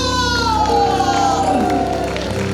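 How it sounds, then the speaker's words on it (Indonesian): Crowd of senior church worshippers cheering and clapping loudly for a third-place group at an Indonesian community service, steady and close throughout, with continuous shouting and whoops over music-like sustained tones. "kasih tepuk tangan yang keras"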